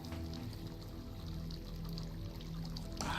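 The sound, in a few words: water flowing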